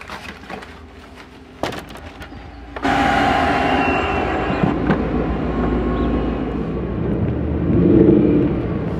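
A car's engine and road noise rise into a steady rumble after a few seconds of quieter interior sounds, heard from inside the vehicle.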